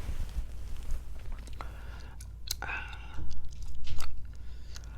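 Gum chewing close to the mic for ASMR, soft wet smacks and crunchy clicks under a quiet whispering voice, intimate and faint with occasional louder bursts.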